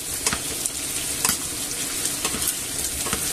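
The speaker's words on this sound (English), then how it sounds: "and just gently brown everything off" Sausages browning in a pan give a steady close sizzle and fry, broken by clinks and scrapes as the pan is stirred.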